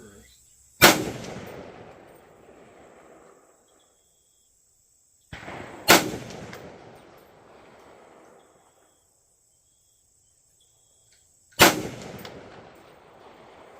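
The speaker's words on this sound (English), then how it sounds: "Let's shoot some more groups to find out." Three loud rifle shots firing Sellier & Bellot 7.62x39 ammunition crack out at spaced intervals outdoors on a range, each sharp report followed by a fading echo and quiet between.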